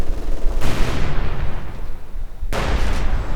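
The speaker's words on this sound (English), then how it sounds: "Howitzer firing." Howitzer artillery firing in the video game Company of Heroes 2, loud booming blasts with a rumbling tail, one shot decaying before a second heavy report hits near the end.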